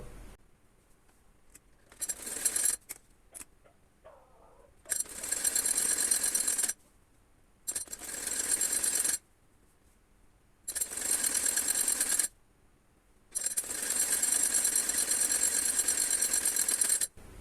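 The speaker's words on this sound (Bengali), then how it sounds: "এখন আমি সাইডের সেলাইগুলো দিব।" Sewing machine stitching the side seams of a baby frock, in four long loud bursts of rapid running stitches separated by short pauses, with no talking.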